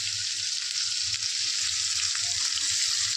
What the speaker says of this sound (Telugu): ఇప్పుడైతే టమాటాలు అవి మగ్గాయి కాబట్టి మనము అల్లం వెల్లుల్లి పేస్ట్ వేద్దాం